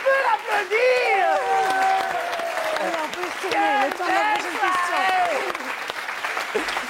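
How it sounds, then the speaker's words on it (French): A studio audience applauds on a French television entertainment show, a broad wash of clapping running under lively overlapping talk and laughter from people on set. "On peut l'applaudir."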